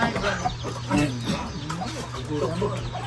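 Chickens cluck in short repeated bursts close by, over a constant low hum and some background voices.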